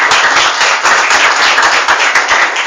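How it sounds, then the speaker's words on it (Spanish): A church congregation claps for the Lord, giving a loud, dense burst of many hands applauding close by. "¿Quiere darle un aplauso al Señor?"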